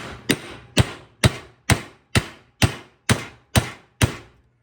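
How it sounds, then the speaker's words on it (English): Metal car parts are hammered while servicing the belt idler and tensioner on a 2007 Nissan Xterra: nine sharp, close, evenly spaced blows ring out at a steady rhythm, each one decaying quickly before the next strike. "so without further ado, let's start hammering."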